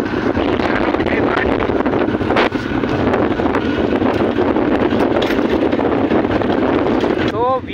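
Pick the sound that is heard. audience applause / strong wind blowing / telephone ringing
strong wind blowing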